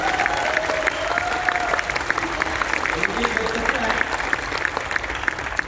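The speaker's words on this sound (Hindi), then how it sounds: "जोरदार ताली बजा सकते हैं आप ऊपर वाले के लिए।" Strong, continuous audience applause at a large RCM World stage event in Bhilwara, loud and close, with scattered crowd cheering throughout the whole stretch.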